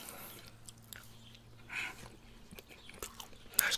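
Crunchy macadamia nut cookie being chewed close to the mic, with soft bites and crumbly crunches spaced irregularly against a quiet background and a sharper crunch near the end.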